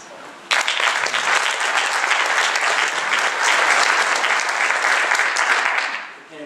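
Sustained audience applause at a 2013 Republican candidates forum for lieutenant governor and attorney general in Roanoke, Virginia, breaking out abruptly and holding loud and steady for several seconds before tapering at the end.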